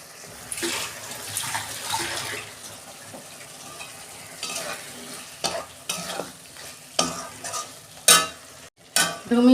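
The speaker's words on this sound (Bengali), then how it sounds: "গ্যাসের ফ্লেম আস্তে করে আমি কষাবো এখন।" Soybean curry is stir-fried on a low gas flame, a spatula scraping and stirring through the sizzling mixture in uneven strokes, with louder clanks and scrapes toward the end and no talking.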